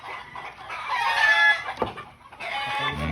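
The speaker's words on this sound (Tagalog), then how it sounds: "medyo maingay kasi maraming manok" Many chickens cluck and crow together at close range, a loud, overlapping farmyard din with a rooster's call rising above the flock.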